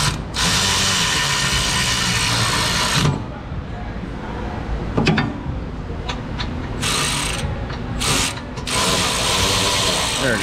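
Ratchet wrench working on brake caliper bolts of a Volkswagen Jetta during a four-wheel brake job, a loud continuous buzzing clatter of rapid clicks that pauses briefly midway, then resumes in short bursts.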